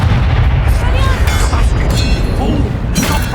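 A Confringo fire-spell blast in the Hogwarts Legacy video game, a loud, sustained fiery roar and boom with rumbling low end across several seconds, while voices speak over it.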